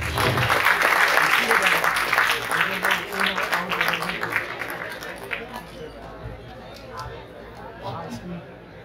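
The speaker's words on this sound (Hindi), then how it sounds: "नरेशन के लिए तालियां हो जानी चाहिए।" An audience applauds a narration at a college Geology Day satirical play, loud dense clapping with crowd chatter that gradually thins and fades over several seconds.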